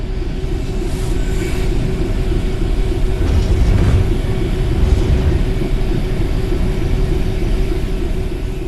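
A Class 66 diesel locomotive in Train Sim World 4 gives a heavy, steady low rumble that holds at constant loudness, with a faint higher whine riding on top and slight swells in the middle.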